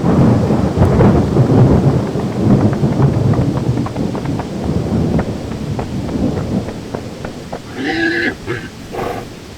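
Heavy rain pours in a thunderstorm with deep rolling thunder near the start, then a lighter steady downpour with rumbles continuing throughout.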